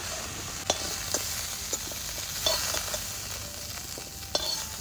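Cauliflower fries in a pan over a wood-fired clay stove while pieces are lifted out: a continuous close sizzle is punctuated by several sharp clinks and scrapes of a utensil against the pan.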